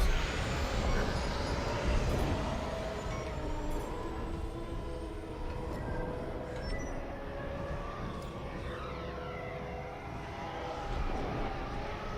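A starfighter engine in Star Wars Squadrons throttles up, a loud continuous roar with rising whine and layered mechanical hum that holds steady throughout, with a swelling rush near the start.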